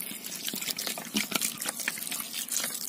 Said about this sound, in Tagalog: lagyan natin ng baso ng tubig